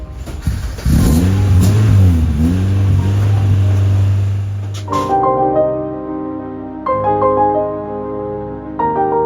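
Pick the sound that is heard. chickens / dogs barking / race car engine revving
race car engine revving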